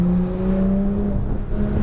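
A Porsche GT3 engine drones steadily on a race track, a sustained, fairly loud tone holding under light throttle, heard from close by with no talk.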